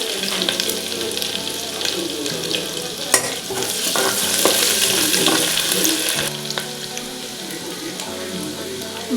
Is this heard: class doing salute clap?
no